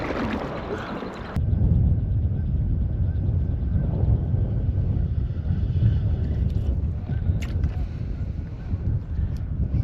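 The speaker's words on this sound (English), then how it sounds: "Really hoping this wind would have died down, but I'm not thinking it's going to." Strong wind buffets a microphone on an open fishing boat out on the water, a steady loud low rumble throughout after a quieter first second, with faint higher noise and brief clicks later.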